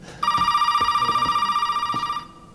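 A telephone rings inside the horror game Resident Evil 7, one steady electronic ring with bright harmonics lasting about two seconds, loud and close, while someone speaks briefly and quietly underneath.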